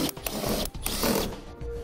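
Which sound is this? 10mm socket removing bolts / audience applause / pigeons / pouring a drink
10mm socket removing bolts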